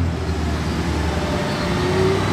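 A Lamborghini Huracán Tecnica rolls past on a Monaco street, a steady loud engine rumble with a rising tone, close by, amid surrounding traffic noise.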